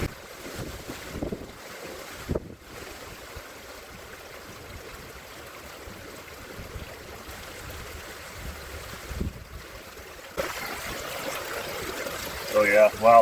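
Strong wind buffets the microphone at an outdoor gold panning site, a constant loud rumble with gusts, and voices talk faintly underneath.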